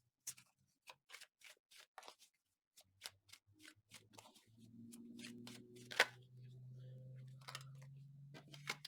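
A deck of tarot cards is riffled and shuffled by hand up close, first in quick separate flicks and taps, then in a longer continuous rustle with a snap partway through and a soft hum underneath.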